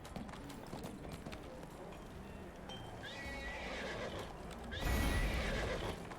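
Horse hooves clopping with a whinny in the Neverwinter video game, a steady hoofbeat rhythm with a brief neigh, the sound swelling louder toward the end, a voice talking over it.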